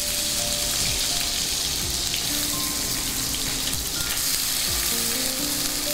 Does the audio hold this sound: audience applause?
no